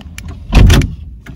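Car door locks worked by an Xhorse wireless remote give soft clicks, then a loud close mechanical clunk of the actuators, followed by a few lighter clicks.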